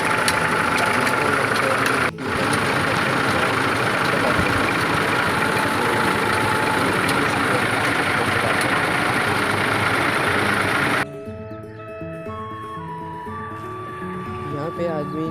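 A tractor engine idling nearby with a steady low rumble throughout, briefly dipping once, then quieter at the end as other background sounds come in.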